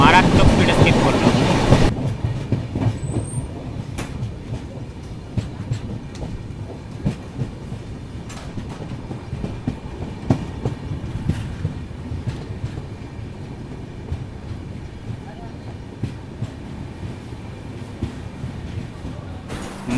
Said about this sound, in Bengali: মারাত্মক স্পিডে স্কিপ করলো